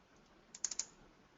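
Keyboard typing during an online sustainable energy marketplace demo: a short burst of three or four crisp, quiet keystrokes in quick succession, alone against a near-silent background.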